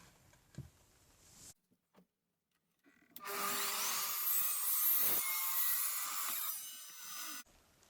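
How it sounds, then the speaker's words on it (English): A saw cuts through a piece of old decking board, a loud, steady rasping roar lasting about four seconds after a few soft knocks and a short pause, then stopping abruptly. "I'm just going to cut it straight down the middle"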